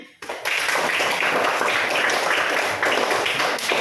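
A classroom of students breaks into sudden clapping after a short pause, a dense, fairly loud patter of hands that holds steady for several seconds with no one speaking over it.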